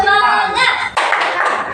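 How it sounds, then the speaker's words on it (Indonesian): Children clap out a short rhythmic clapping routine in a classroom-style lesson, a few quick hand claps mixed with young voices, close and loud. "Tepuk semangat."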